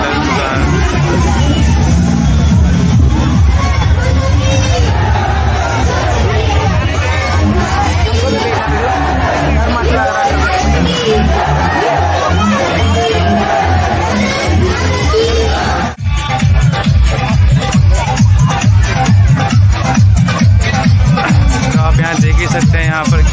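Dense, loud crowd hubbub fills Barkakana railway station during Shivratri, a constant babble of many voices with occasional shouts and whoops and no pause.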